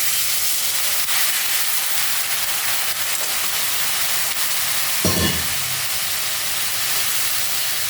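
Water poured into a pan of cauliflower curry with turmeric produces a steady, loud hiss of sizzling steam, with a short, sharper burst of bubbling partway through.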